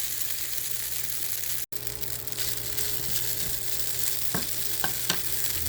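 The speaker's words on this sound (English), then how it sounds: "Then we're just kind of browning the noodles now a little bit. Let that saute just for a moment." Noodles with soy sauce and sesame seeds browning in a hot pan give a steady, dense sizzle throughout, with a few sharper crackles and pops near the end and no talking.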